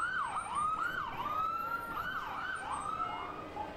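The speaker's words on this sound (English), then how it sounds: "when you hear that siren, move out the way" Wailing emergency vehicle sirens of a fire engine in a parade rise and fall in overlapping sweeps, loud and close, with no talking.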